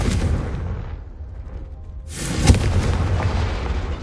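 Confringo fire spell in Hogwarts Legacy bursting with a deep, booming explosion that swells, drops to a brief lull, then erupts again into a loud rumbling blast with a sharp crack.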